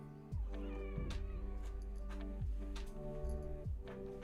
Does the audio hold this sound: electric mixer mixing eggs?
no